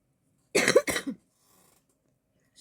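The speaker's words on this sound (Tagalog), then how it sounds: "Ubo ako eh." A person coughs twice in quick succession, close and fairly loud, followed by near silence.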